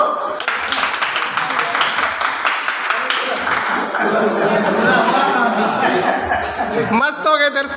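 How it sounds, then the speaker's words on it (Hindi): Clapping and chuckling laughter from an audience at a business meeting, lively chatter and voices mixing in throughout, with a brief sharper burst near the end. "ताली बजा दो।"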